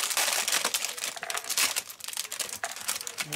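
An A4 photo album page with its protective sheet is crumpled and handled up close, giving a dense, continuous crackling crinkle with sharper rustles throughout.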